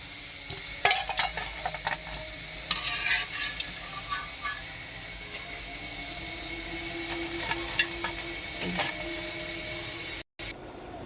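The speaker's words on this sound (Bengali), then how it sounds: "এবার আমি তেল ঝরিয়ে তুলে নেব" Crisp chicken pakora crackling and sizzling in hot frying oil as pieces are lifted out, with a steady hiss, scattered pops and a few sharp clinks of a utensil, near and fairly loud, then a brief silence before the frying resumes.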